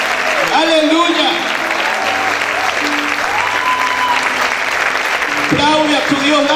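Church congregation bursting into strong, continuous applause, with cheering voices and shouts rising over the clapping throughout.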